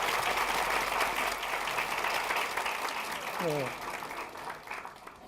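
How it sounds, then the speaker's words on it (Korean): A lecture hall audience at a university special talk on law and human rights breaks into loud sustained applause that slowly fades, with a voice briefly speaking over it. "박수 한번 다시 한번."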